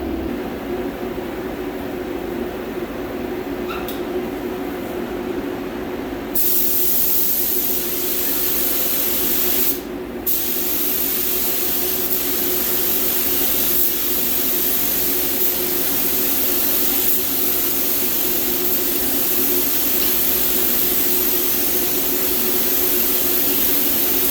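A spray gun applies white base coat paint to a 2021 Hyundai Elantra door skin, giving a loud, steady hissing rush that runs almost continuously, with a brief pause partway through, no talk.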